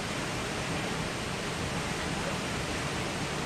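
Rainbow Falls in Hawaii roars as a continuous, even broadband rush of falling water, steady and full with no other sounds over it.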